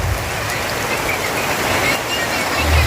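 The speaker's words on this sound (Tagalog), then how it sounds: "Lakas ng ulan" Steady heavy rain hisses continuously, a dense wash of falling water with a low rumble underneath, close and fairly loud throughout.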